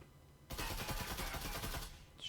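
In a tactical shooter video game, a sudden rapid burst of automatic gunfire rattles for almost two seconds at close range, with no talk over it.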